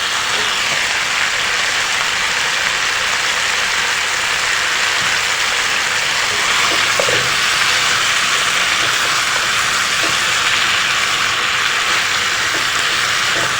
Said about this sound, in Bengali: এভাবে উল্টিয়ে পাল্টিয়ে নেড়ে সেরে নিচ্ছি